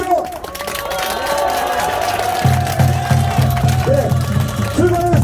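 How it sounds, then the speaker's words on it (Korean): Protesters at a rally against forced land expropriation for station-area development in front of Yesan County Office chant slogans in rhythmic unison with steady clapping. A loud voice carries over the crowd. "힘차게 구호와 박수 부탁드리겠습니다"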